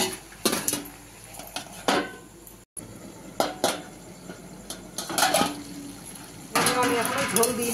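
A spoon scrapes and clatters against a pan while bottle gourd and prawns sauté with green chillies, repeated metallic stirring strokes over a steady sizzle, loud and close, with a burst of vigorous scraping at the end.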